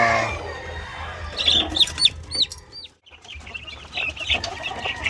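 Chicks cheep in a pen, with repeated high, rising peeps overlapping and clustering mid-clip amid a busy, close background of soft clucking fowl.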